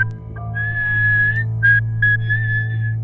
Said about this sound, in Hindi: झाड़ियों में उसे सीटी की आवाज सुनाई दी।